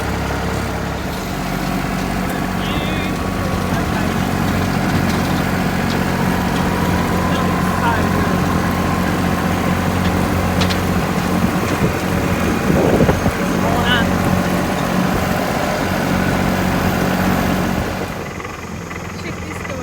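A tractor engine drones steadily through nearly the whole stretch while mowing on a farm, loud and close with wind buffeting the microphone, then drops away near the end.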